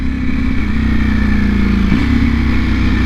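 A 2020 Ducati Panigale V4 R motorcycle cruises on a freeway, its engine a steady, loud drone with a slight pitch shift partway through, wind rush underneath and no talk.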